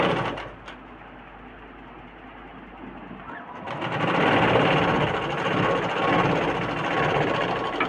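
An electric sewing machine stitches cloth. A quiet stretch with a couple of clicks gives way to a steady, loud mechanical whirr that runs on to the end.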